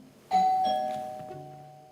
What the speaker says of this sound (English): Doorbell, Rook